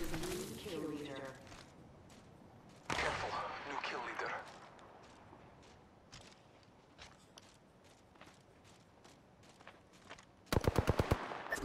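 Light machine gun fire in an Apex Legends match: scattered bursts and footsteps through the middle, then a loud rapid stream of close shots at the end, with a person talking over parts of it.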